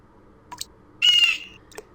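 A bird in the Windosill game gives a single short, bright chirp, loud and close, framed by a couple of faint clicks before and after in an otherwise quiet scene.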